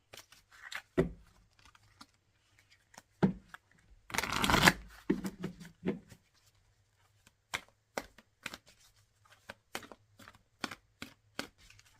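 Tarot cards being shuffled up close in a run of crisp riffles and slaps, with a longer dense riffle in the middle and scattered sharp card taps through the rest, no talking.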